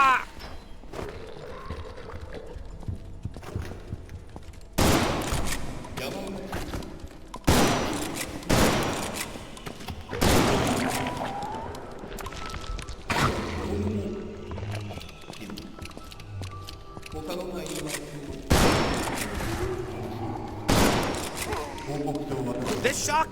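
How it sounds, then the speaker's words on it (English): Loud, booming shotgun blasts in a first-person video game, fired in several separate bursts with gaps between them, mixed with other in-game noise and a player's voice. "This shotgun sucks."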